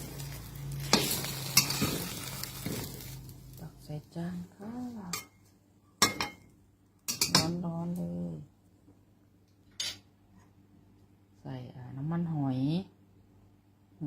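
Egg frying in a pan and turned over, a steady sizzle with stirring and a few metal clinks at the start, then long quiet gaps broken by short bursts of a voice.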